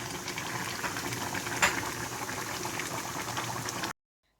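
Spiced black chickpeas simmering in water in a pot, a steady close bubbling and gurgling that runs evenly until cutting off abruptly, with no talking.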